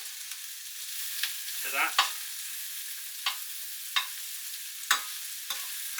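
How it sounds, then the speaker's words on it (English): Onions frying in oil and lard for a beef and beer stew, with a steady bright sizzle and several sharp scraping stirs spaced irregularly, close and clear; a brief spoken word near the end. "And then we get the onions turned until they're translucent in the remaining oil"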